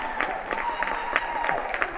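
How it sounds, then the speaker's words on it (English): A home Cougar crowd at a junior varsity high school volleyball match cheers and claps after its team wins the game, producing a steady roar of applause with scattered shouts and whistles throughout. "Cougar crowd going wild."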